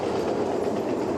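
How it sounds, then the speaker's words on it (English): A train rolling along railroad tracks at Calhoun, a loud, steady rumble with continuous wheel clatter close by and no break in the sound. "That's the train, ladies and gentlemen, that's rolling through the tracks here at Calhoun."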